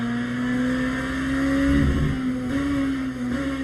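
Race car engine in Le Mans Ultimate during a WEC race at Bahrain, a steady loud drone with small pitch dips as the car shifts and brakes, continuous throughout with no speech.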